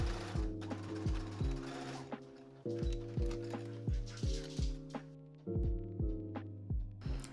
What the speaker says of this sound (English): we're going to sew it down from one end of the curve to the other